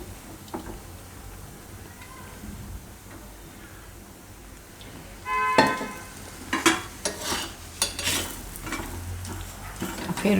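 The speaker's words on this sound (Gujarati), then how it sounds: "ફેરવીને આપણે શેકી લેવું બે બાજુ" Mango paratha flipped and roasted on both sides on a griddle over a low flame, a quiet sizzle at first, then a burst of clinks, scrapes and utensil taps from about halfway through.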